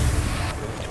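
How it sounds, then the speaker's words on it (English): Bomb explosion in the video game Rainbow Six Siege, a single heavy, low rumbling blast that fills the short moment and fades quickly. "Another bomb."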